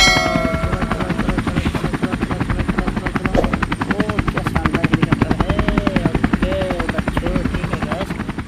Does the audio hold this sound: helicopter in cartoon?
yes